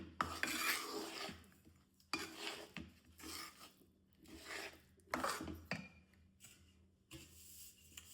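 Millet flour sukhadi mixture is worked around a pan in repeated scraping strokes, a rhythmic rasp of a spoon against metal with short pauses between passes.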